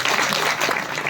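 An audience at a school merit awards ceremony in Shimla gives a short burst of applause, a dense, steady patter of clapping that fills the whole brief moment without any voices.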